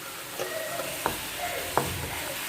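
A spoon stirs and scrapes coconut oil paste in a pan over a wood-fired stove while making beef curry. Soft sizzling runs throughout, with two sharper clicks of the utensil against the pan.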